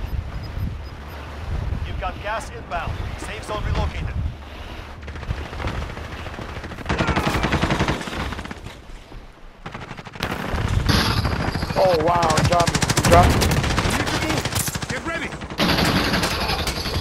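Rapid automatic gunfire in a video game, loud and sustained, with bursts and short gaps, mixed with wind-like noise and voices talking over it.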